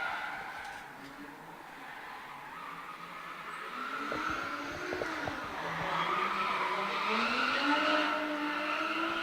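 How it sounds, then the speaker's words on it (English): A Nissan S15 drift car at a D1NZ round in Tauranga, its tires squealing and skidding in long wavering screeches over a revving engine, rising louder as it slides along the track, with a commentator talking over it. "Griffin now out on track with the Barra of the World S15"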